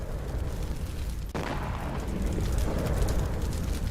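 A drone strike explodes at an oil storage facility in Kuwait, with a sudden blast cutting into dense roaring noise and a continuous rumbling, crackling wash that carries on after the explosion.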